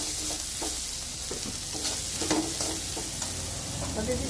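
Chopped vegetables with turmeric, salt, red chilli powder and green chillies stirred in a frying pan, a low steady sizzle under repeated scraping strokes of a spoon against the pan.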